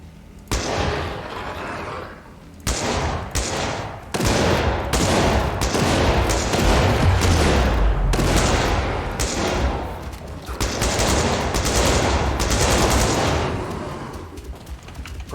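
AK rifle fire in an online video game, loud rapid bursts and sustained volleys of shots coming in repeated clusters with brief pauses between them, no talk.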